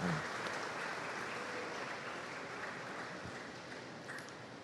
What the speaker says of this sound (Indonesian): Tepuk tangan buat PT Pos Indonesia.